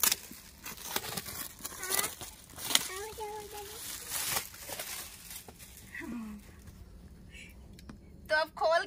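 Gift package from a Raksha Bandhan unboxing being torn and pulled open, with scattered crinkling and ripping bursts and clicky handling noises close by, while a person talks throughout.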